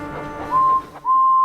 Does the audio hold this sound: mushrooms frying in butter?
no